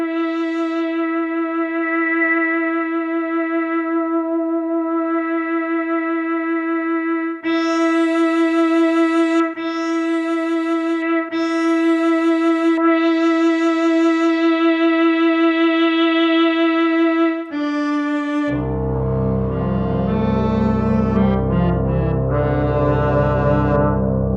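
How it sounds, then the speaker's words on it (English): A sustained synthesizer tone drones steadily, its brightness repeatedly swept down and opened up by a low-pass filter cutoff, ending in a thicker, buzzy chord. "if we turn this on here, that cutoff is taking out some frequencies"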